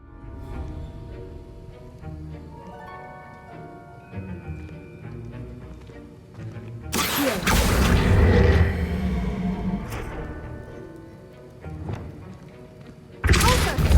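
Depulso spell cast during a lesson in the Hogwarts Legacy video game, heard as heavy thumping booms and whooshing bursts that rise sharply above a softer musical and ambient game background.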